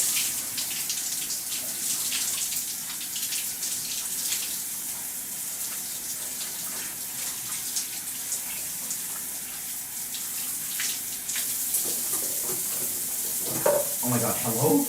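Shower water runs steadily as a continuous broadband hiss throughout, with a brief rise in splashing near the end.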